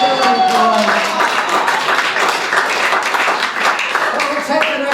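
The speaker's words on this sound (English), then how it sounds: "give her a big round of applause" Audience applause at a live magic show: a loud, continuous burst of crowd clapping that holds steady for several seconds, with a voice talking over it at the start and again near the end.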